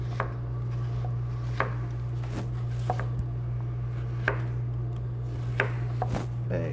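A knife slices lengthwise through an onion on a cutting board in a series of slow, evenly spaced, crisp chops over a constant low kitchen hum.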